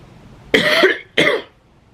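Two close, loud coughs from a person with an itchy throat, the first longer and the second shorter, separated by a brief pause in an otherwise quiet room.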